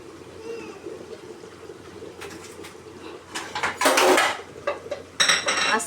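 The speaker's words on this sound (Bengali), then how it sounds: "এখন আমি যে পেঁয়াজের বেরেস্তাটা দেখছিলেন করে রেখেছি, এগুলোকে এখন আমি উপর দিয়ে দিচ্ছি রোস্টে।" A spoon clinks and scrapes against a metal pot while fried onion topping is spooned over a roast. Sparse metallic taps build to louder clatter near the end over a quiet background with faint bird coos.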